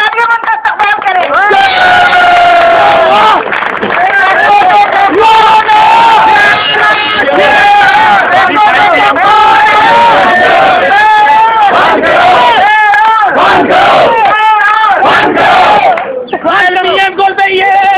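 A crowd at a workers' strike rally cheers and shouts loudly as a speaker is called to the stage, a dense roar of voices with whoops close by.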